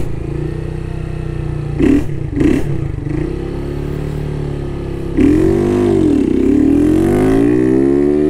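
A Honda Start 160 motorcycle engine blips twice, then drones at idle before opening up into a loud, rising acceleration, close by.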